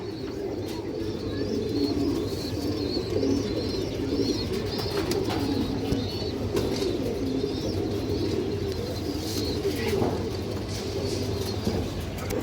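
Several pigeons from a pair offered for sale coo steadily in low, rolling bursts, close and unbroken for over twelve seconds, with occasional higher chirps and a brief flutter of wings.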